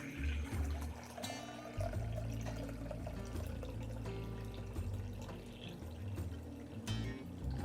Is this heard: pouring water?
yes